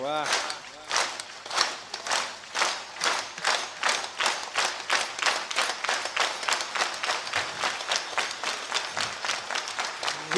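An audience claps in steady unison rhythm at a devotional kirtan gathering, about two claps per second, crisp and continuous for the whole stretch, with faint background sound beneath.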